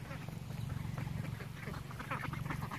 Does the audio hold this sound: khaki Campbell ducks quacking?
yes